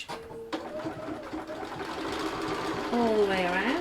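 A sewing machine runs in a steady whirring drone as it stitches felt pieces together, its motor pitch rising near the end, while a voice talks faintly over it.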